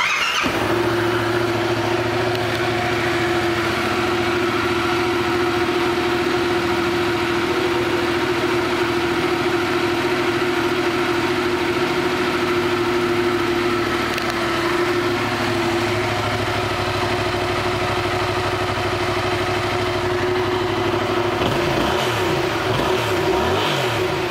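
A 2016 Yamaha FZ07 motorcycle engine runs steadily at a close, loud idle with a constant hum and slight revving, then the sound shifts and eases off near the end.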